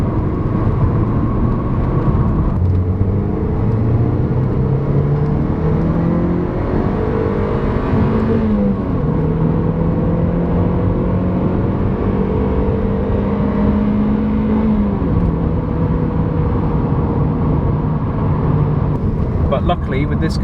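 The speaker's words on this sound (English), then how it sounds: "I think it likes being revved quite high because it's much more responsive in the gearbox." A small, low-powered car engine revs up through the gears, climbing in pitch and dropping at each shift over about twenty seconds, heard steadily from inside the cabin as a constant drone.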